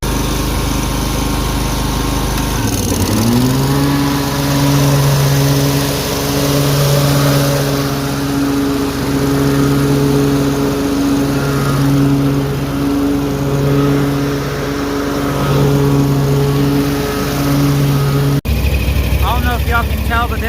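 A Hustler Surfer Pro lawn mower runs loudly close by on its first day out, its engine droning with a steady tonal hum that settles after a brief dip early on, continuous to the end with a sudden change at the cutoff.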